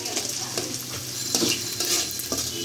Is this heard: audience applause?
no